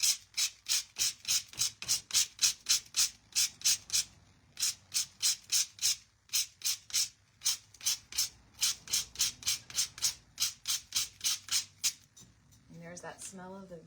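Rapid, steady series of short scraping strokes as a blade shaves excess decoupage paper off the rim of a terracotta planter pot, close and crisp, with brief pauses between bursts and a voice near the end.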